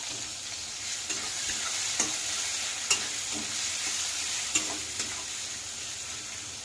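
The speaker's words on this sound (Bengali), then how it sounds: "অপেক্ষা করব যতক্ষণ না লাল লাল করে ভাজা হচ্ছে" Chopped onions frying in oil for mutton curry, a constant close sizzle broken by periodic scrapes and taps of a spatula stirring them, about one stroke per second, with no voices.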